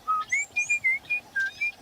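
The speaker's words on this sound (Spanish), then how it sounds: "siguió su camino, siempre silbando" A person whistles a quick, bright tune of short clear notes in a steady rhythm, close and fairly loud against a quiet background.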